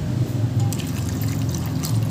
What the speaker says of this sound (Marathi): यामध्ये आपल्याला पाणी घालून घ्यायचं आहे